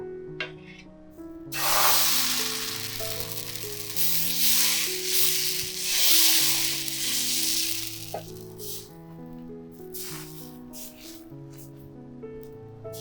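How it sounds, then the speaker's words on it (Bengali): Oil brushed onto a hot iron tawa for stuffed parathas sizzles in broad hissing swells that rise and fade several times, over soft background music. "তাওয়ার মধ্যে অল্প করে তেল ব্রাশ করে দেবো"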